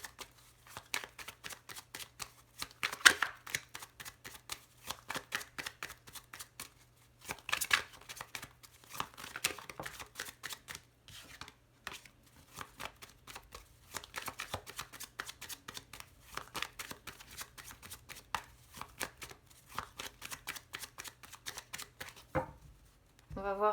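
Oracle cards shuffled for a cross spread, a long run of crisp riffling and slapping card sounds in bursts with brief pauses, close and fairly quiet, no talking over them.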